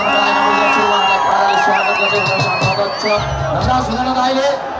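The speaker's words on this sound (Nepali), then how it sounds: "सबैजनाले जोरदार ताली हल्लाले स्वागत गर्दै" A concert crowd cheers to welcome a singer on stage, with loud whoops and shouts. A voice speaks over the cheering and music-like tones throughout, close and loud.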